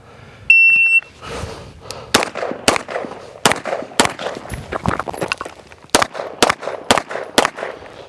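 A CZ Shadow 2 pistol fires about ten sharp, loud shots at a carry optics practice drill, some in quick pairs and others spaced by short pauses, with a brief electronic beep at the start and shuffling and movement between shots.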